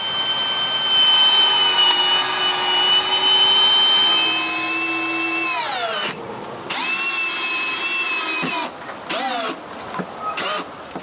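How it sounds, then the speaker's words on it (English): Power drill driving 8-inch screws into a wooden back tie beam while building a timber carport for firewood, a loud sustained whine that holds steady, drops in pitch as the screw bites, then comes in short bursts. "Now we can screw that to the back tie beam with 8-inch screws."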